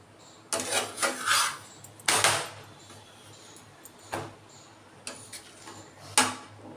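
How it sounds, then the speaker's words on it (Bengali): Wheat flour dough for roti is kneaded by hand, producing soft, close rubbing and pressing bursts in an uneven rhythm with quiet pauses between strokes; no voices. "এখন আটা মাখছি"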